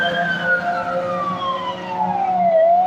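Siren from a toy fire truck, a single electronic wail sliding slowly downward and rising again near the end, loud and close with no voices.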